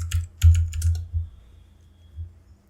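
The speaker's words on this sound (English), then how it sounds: "Now let's type our password," Keys clatter on a computer keyboard as a password is typed: a close, quick burst of clicks over the first second, then a couple of isolated taps, with no voices.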